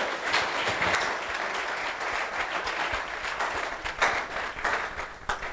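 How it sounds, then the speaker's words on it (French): A church audience applauding a reverend: dense, sustained clapping at steady loudness throughout, with no voices standing out above it. "Acclamez pour le révérend"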